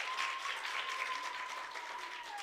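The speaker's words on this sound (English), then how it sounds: "Round of applause." An audience at a women-in-media awards event gives a round of applause, steady clapping that holds throughout and fades slightly at the end, with a faint tone running underneath.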